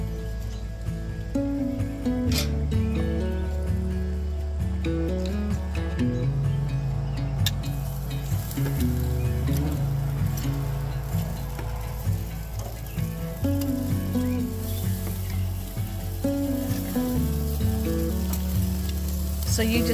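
Chicken wings sizzle loudly over a charcoal grill, a dense continuous frying hiss close up with occasional crackles and a shifting low hum underneath, no talk.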